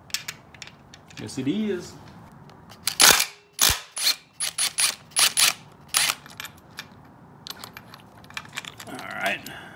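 Ratcheting a 12 mm shift return spring bolt loose on a Yamaha YFZ450 engine during teardown: a run of sharp metallic clicks and clanks in quick bursts, close up, with a brief spoken remark and some clinking parts.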